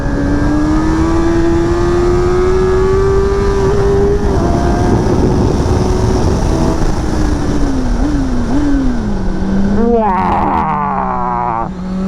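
A 2025 Kawasaki ZX-10R motorcycle pulls hard in first and second gear, its engine note rising steadily, dipping and climbing again, then a sharp shift blip near the end, loud and close with wind roar.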